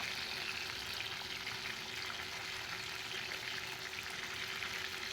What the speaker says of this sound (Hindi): एक साइड से ये फ्राई हो गए, अब हम दूसरी साइड से फ्राई कर लेंगे